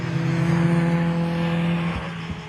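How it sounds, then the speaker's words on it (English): A loud, rapid Ford Escort XR2 race car at the Anglesey circuit, its engine holding a steady, strong buzzing note close by before it shifts near the end. "his rather rapid and loud Ford Escort XR2"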